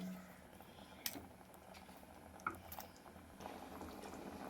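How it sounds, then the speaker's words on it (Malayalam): A pot of fish curry made with ground coconut paste bubbles on the stove, a steady soft boiling burble with a couple of sharp little pops, close by and fairly quiet. "നമ്മുടെ കറി നന്നായിട്ട് തിളച്ചിട്ടുണ്ട്"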